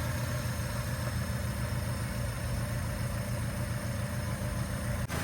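A 25-year-old Honda City VTEC's 1.5-litre inline-four B15C engine, fitted with stainless steel 4-into-1 headers, idles steadily with a low, even rumble and faint vibration, close and continuous without any talk.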